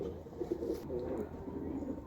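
Pigeons coo softly and repeatedly in a low, murmuring rhythm, close by and steady, with faint background noise and no clear talk.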